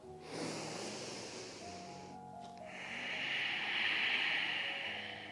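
Slow, deep breaths drawn in and let out during a gentle seated chair-yoga session for people with reduced mobility, a soft airy inhale followed by a longer, louder exhale, close and with no talking.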